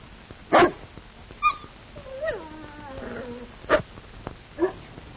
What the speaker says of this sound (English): That looks like the dog I saw you feeding at the game warden's grave